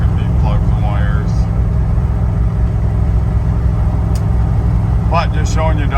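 A 1978 Ford Bronco engine running slightly rough while driving, a steady low rumble with uneven texture, heard from the cabin with brief voices over it near the start and end.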